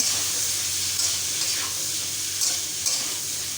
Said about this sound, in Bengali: আলুটা হালকা হালকা ভাজা হয়ে গেলে তারপর আমি লবণ দেব।